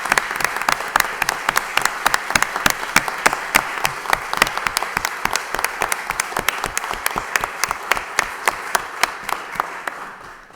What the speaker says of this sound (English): So I want to join my colleagues in giving them all a round of applause right here today.